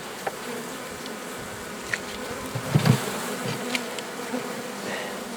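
Honey bees buzz steadily in a low, continuous drone at a forest apiary in midday, with a few brief louder passes close by.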